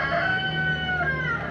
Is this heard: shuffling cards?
no